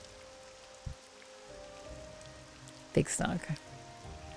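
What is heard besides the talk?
rain in video game Morrowind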